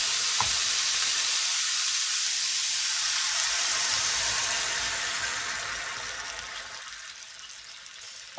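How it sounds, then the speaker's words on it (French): Meat simmering in chicken broth in a pan, a loud, steady bubbling sizzle that runs throughout with a slight fade toward the end, with no talking. "je vais faire cuire environ 10 minutes la viande dans le bouillon"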